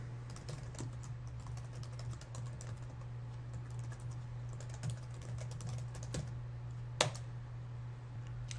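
Soft, rapid keystrokes on a computer keyboard as a password is entered, an irregular stream of light clicks with a louder tap near the end, over a steady low hum.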